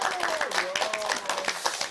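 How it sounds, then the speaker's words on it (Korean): A congregation at a Korean church Bible-class opening worship service claps briefly, scattered hand claps under a voice that carries on speaking over them. "박수 한번 보내주세요."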